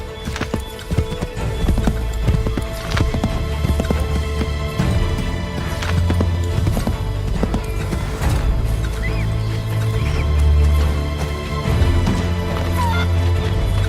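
Horses trot in the video game Assassin's Creed 3, with continuous close clip-clop hoofbeats, a whinny, and heavy low rumbling throughout, alone without talk.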